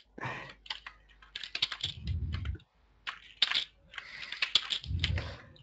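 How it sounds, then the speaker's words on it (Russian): Keys clatter on an old computer keyboard, with rapid typing taps and repeated heavier thumps of the space bar, quiet and close, during a Half-Life 2 Deathmatch livestream. "как твой пробел чавкает, мне он всегда доставляет удовольствие. На клавиатуре."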